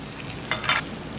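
Water poured into a pan of frying grated garlic gives a brief, soft burst of sizzle and hiss over a steady background of gentle frying.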